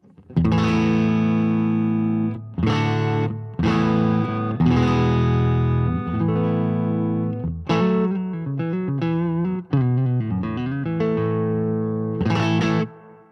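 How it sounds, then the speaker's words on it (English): A Fender American Elite Telecaster electric guitar on its neck pickup plays loud strummed chords and single-note runs, with slightly overdriven tone and brief gaps between phrases, alone without talk. "Now the neck pickup."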